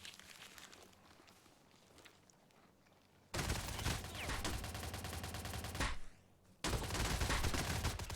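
HK G3A1 rifle fire in a video game comes as two loud bursts of rapid automatic shots, separated by a short pause, after a quieter stretch of faint movement and rustling.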